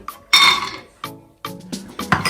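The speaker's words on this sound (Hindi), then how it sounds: "एक और पैन में थोड़ा सा घी डाल के तो बादाम फ्राई कर लेंगे। सबसे पहले बादाम डालेंगे।" Almonds dropped into ghee in a frying pan on the stove give a few distinct clinks and clatters against the metal, spaced apart with short sizzling tails, close and moderately loud.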